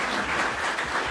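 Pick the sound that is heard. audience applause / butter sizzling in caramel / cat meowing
audience applause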